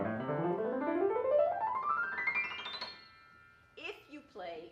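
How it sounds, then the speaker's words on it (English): Piano notes played on the white keys only climb quickly upward in a rapid run, fairly loud and close, then ring out before a voice starts speaking. "So if you play all the white keys and only the white keys"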